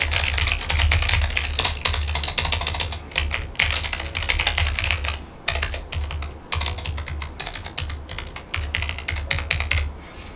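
Rapid clacking of typing on a Logitech MX Mechanical Mini keyboard, crisp keystrokes in quick irregular bursts with brief pauses, close and clear, no talking.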